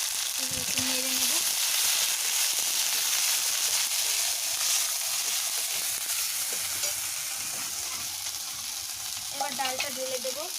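Cumin seeds and ginger-cumin paste sizzle steadily in hot oil in a pan as they are stirred, a loud, continuous frying hiss with a few brief tonal clinks near the start and end.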